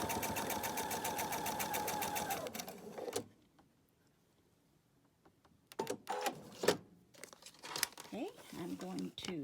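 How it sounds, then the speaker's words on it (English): Sewing machine stitching along a marked line with an edge guide on a Halloween quilted project box: a fast, steady mechanical whir for about three seconds, then quiet, then brief handling rustles and clicks. "I can just stitch right along that line."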